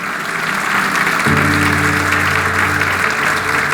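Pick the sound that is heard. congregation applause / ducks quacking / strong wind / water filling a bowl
congregation applause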